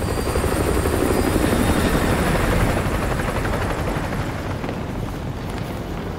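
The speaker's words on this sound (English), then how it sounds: "Enemy helo patrolling the perimeter." Enemy helicopter in Call of Duty Modern Warfare 2 Remastered passing overhead, a loud, dense rotor roar that fills the scene and slowly fades away.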